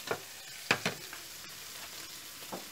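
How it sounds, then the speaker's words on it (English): Garlic butter prawns frying in a pan, with several crisp sizzling crackles and pops at irregular moments over a quiet background. "and then add the shrimps. Let it fry in it."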